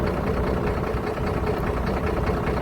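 A Mercedes truck engine running with a misfire, a steady low diesel rumble with an uneven pulsing beat, close and continuous.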